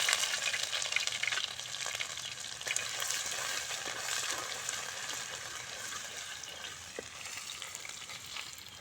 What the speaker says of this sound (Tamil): கடுகு நல்லா பொரியட்டும் ஒரு கடுகு பொரிஞ்சிருச்சு